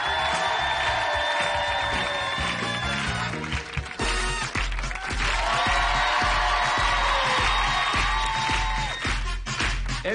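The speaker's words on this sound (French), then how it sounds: "On peut les applaudir très très très fort" Studio audience at a French evening variety show cheering and whooping loudly over a thumping music playout, a sustained wall of crowd noise from start to finish.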